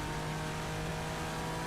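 Nissan GTR-LM race car in rFactor 2 powering out of a corner, a steady loud engine drone with sustained low-pitched tone and no talk.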